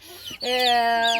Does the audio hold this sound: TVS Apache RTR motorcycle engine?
no